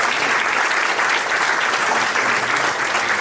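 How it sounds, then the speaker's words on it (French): A football club crowd applauds its coaches and educators, with loud, sustained clapping from many hands that holds steady throughout. "Des applaudissements qui vous sont aussi réservés."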